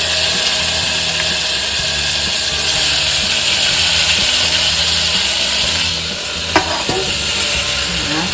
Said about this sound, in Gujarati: આપણે રાઈ જીરું ને હિંગનો વઘાર કરી નાખ્યો છે.